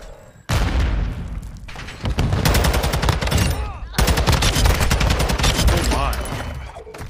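Rapid automatic gunfire and booming shots from Call of Duty: Modern Warfare 2 fire in dense, loud, overlapping bursts, with brief pauses between volleys.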